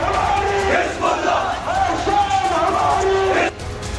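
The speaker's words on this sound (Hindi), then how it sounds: "नसरुल्लाह की मौत पर कश्मीर घाटी में चीख पुकार मची है।" Crowd of protesters in the Kashmir valley shouting and wailing in mourning, a dense, continuous wall of raised voices and cries that stays loud throughout before dipping slightly near the end.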